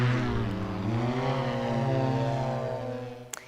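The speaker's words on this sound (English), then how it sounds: "This craft doesn't need a runway to take off or to land." BlackFly vertical takeoff and landing aircraft drones overhead, a loud steady propeller hum with shifting pitch as it passes, fading slightly toward the end.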